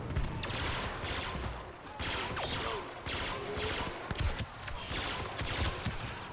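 Blaster gunfire in Star Wars Battlefront II, repeated rapid bursts of shots with scattered impacts, moderately faint under occasional talk.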